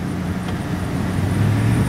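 A 2001 GMC Sierra engine runs close by, holding a steady, loud rumble that rises slightly toward 2,000 RPM.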